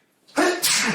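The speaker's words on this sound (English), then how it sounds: "if you sneeze again, you don't get no bless yous" A single loud, close sneeze bursts out abruptly after a short silent moment, with a sharp two-part explosive release.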